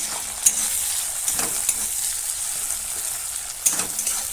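Chopped tomato being stirred into a frying Bengali bhetki fish-bone curry, a steady close sizzle with a few sharp spoon scrapes against the pan, no talking.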